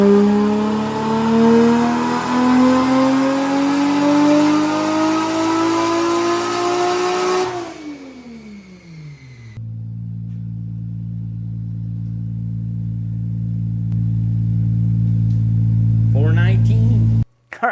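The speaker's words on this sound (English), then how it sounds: "when I go ahead and start it up, it has a quick little rattle" A 9th gen Honda Civic engine revs and idles up close, a loud droning run that drops away before a steady low idle settles in, ending in a brief rattle and cutoff; a voice speaks over it.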